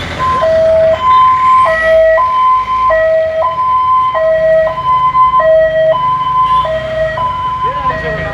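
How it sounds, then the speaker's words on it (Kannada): An ambulance siren wails loud and close in a steady two-tone hi-lo pattern, alternating evenly about every half second over traffic rumble. "ನೋಡಿ ಆಂಬುಲೆನ್ಸ್ ನೋಡಿ"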